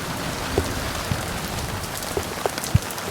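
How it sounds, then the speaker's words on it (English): Pea-sized hail falls during a storm, a dense steady patter with a few sharper, louder individual impacts standing out from the constant hiss. "the storm decided to come back this way and started dropping some hail"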